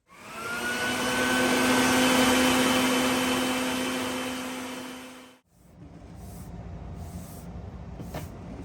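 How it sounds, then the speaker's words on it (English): A vacuum cleaner at a motorcycle fender repair job runs as a loud, steady whine for about five seconds, then cuts off abruptly, leaving quieter background rustle and clatter. "after making a bit of a mess with my vacuum"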